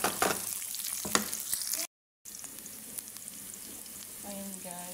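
Garlic frying in olive oil in a pan for an eggplant-and-egg dish, a steady close sizzle with a few utensil scrapes, a brief gap of silence partway through, then softer sizzling.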